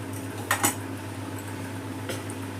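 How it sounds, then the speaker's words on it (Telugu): Fried dry fruits tipped into a pot of corn and sago payasam, giving two quick metallic clinks of a spoon against the pot over a steady low hum, then a softer clink near the end. "మనం వేయించుకున్న డ్రై ఫ్రూట్స్ వేసేస్తున్నాను"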